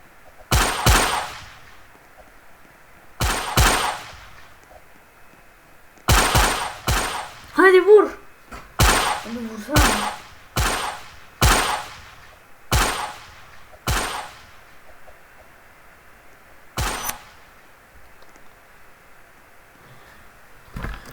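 Gunshots in the Roblox game Murderers vs Sheriffs ring out as loud, sharp cracks, single and in quick pairs, spaced irregularly across the stretch with short gaps of quiet between them.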